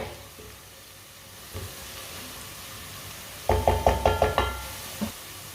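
Garlic cooks in a pan while a potato and turnip (shalgam) curry is being made, giving a soft sizzle under a burst of quick wooden stirring knocks against the pan partway through.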